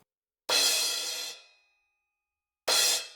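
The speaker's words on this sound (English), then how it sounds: "a cymbal choke is basically when a drummer hits a crash and he doesn't want it to keep sounding." A crash cymbal is struck and rings bright, then is cut short, followed by a second hit that is also quickly choked.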